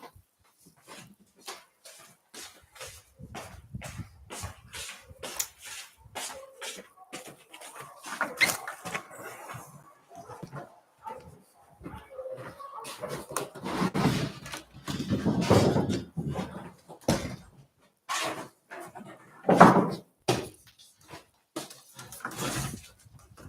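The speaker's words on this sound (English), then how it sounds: "But he's a dog. That's what they do. They bark." A dog barks repeatedly in short, irregular bursts over about twenty seconds, some loud and close, with quieter whimpers and gaps between.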